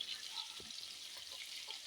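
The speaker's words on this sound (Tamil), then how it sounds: "வாழை கருவாடை சின்ன சின்னதாக கட் பண்ணி நல்லா தண்ணியில் கழுவிட்டு இப்போ எண்ணெயில் போட்டு இருக்கிறோம்" Small pieces of dried fish, cut up and washed, crackle and sizzle in hot oil in a pan, a steady faint hiss with light popping throughout and no voices.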